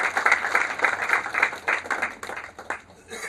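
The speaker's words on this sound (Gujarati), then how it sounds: "હું આપ સૌને વિનંતી કરું કે આપણે આજના મહેમાનને પણ એકવાર તાળીઓથી વધાવીએ." Brief burst of audience clapping for the chief guest at a Textile Week event, dense and fairly close, fading toward the end.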